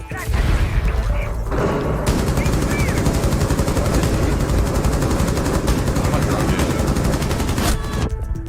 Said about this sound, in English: It turned out that Finka's LMG was shockingly useful.